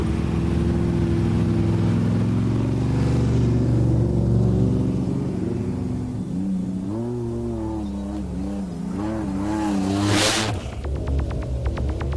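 A four-wheel-drive vehicle's engine throbs and rumbles steadily, then revs up in rising and falling surges, loud and close with no voices.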